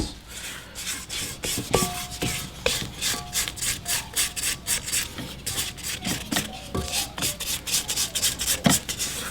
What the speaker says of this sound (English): I'm going to go about 2/3 of the way, stop, scrape down my sides.